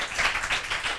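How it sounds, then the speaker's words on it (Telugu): A church congregation claps loudly and steadily together during a worship service, the dense applause swelling in waves without pause. "గట్టిగా చప్పట్లు కొట్టిన అందరూ కూడా"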